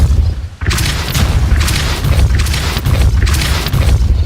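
Depulso spell cast in the Hogwarts Legacy video game, a loud booming magical blast after a brief dip, with a sustained roaring burst that continues to the end.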